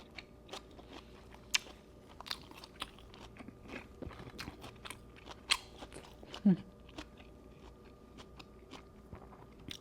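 Fresh spring rolls being bitten and chewed close up, giving soft crunches and moist mouth sounds at an irregular pace, with a few sharper bites standing out against a quiet background.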